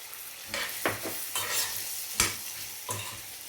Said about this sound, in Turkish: şöyle bir 10-15 saniye bulgurum ve eriştelerimi yavaş eriştelerimi kırmadan karıştıracağım